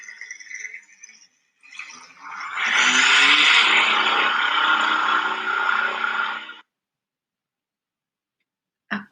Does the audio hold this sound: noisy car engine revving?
yes